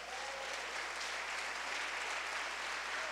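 A church congregation applauds, dense steady clapping from many hands spread through a large room, fairly faint and distant, with no voices standing out.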